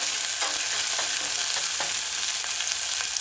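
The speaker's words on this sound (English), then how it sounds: "allow it to saute for a few seconds." Chopped scallion sautéing in a pan for a cabbage stew, a steady bright sizzle with a few soft scraping stirs, close and continuous throughout.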